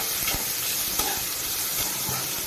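A large tomato hits hot tempering oil in a pan for Konkani-Malvani cumin and coconut dal, giving a steady, close, loud sizzle and crackle throughout with no voices.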